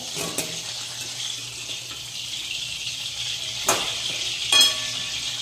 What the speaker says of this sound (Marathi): अशाच पद्धतीने आपले सगळे लॉलीपॉप आपण तळून घेऊया।